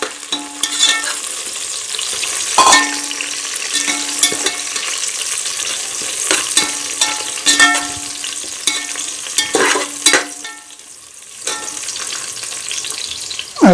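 Mint leaves fry in a pot of hot oil for stingray fish biryani. A steady sizzle runs beneath repeated scraping and clinking strokes of a spoon stirring the leaves, all heard up close.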